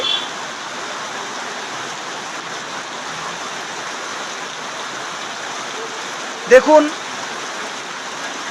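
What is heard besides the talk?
heavy rain falling at Mirpur bus stand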